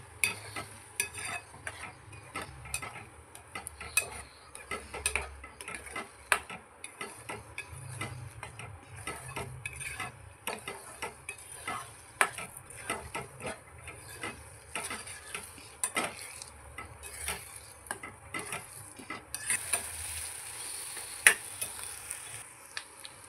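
A spatula scrapes and taps against a pan as egg bhurji is stirred and fried, with irregular clinks over a faint, steady sizzle, close and quiet with no talking.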